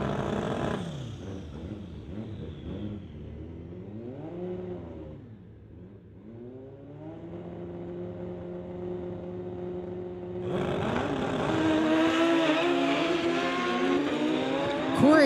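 A Hayabusa motorcycle drag races down a street-legal strip, its engine screaming loud and high through rising gear changes, then jumping to a louder, harsher roar partway through the run.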